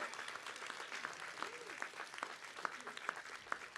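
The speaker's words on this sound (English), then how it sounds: "let's give them a huge round of applause" Family and friends at a medical college commencement ceremony applaud from a distance. The clapping is a dense but faint wash of many hands, with scattered louder claps and murmuring voices in the crowd.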